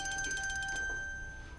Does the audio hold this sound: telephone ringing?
yes